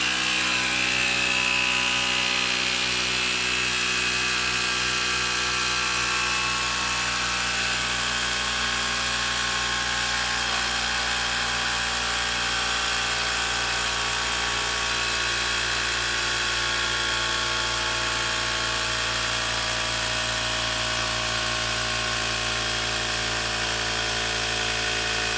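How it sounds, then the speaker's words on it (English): Cordless Ryobi inflator pumping up a Dunlop motorcycle front tire, a continuous buzzing motor hum with a rapid pulsing rattle, steady and close throughout with no talking. "Handy dandy cordless Ryobi."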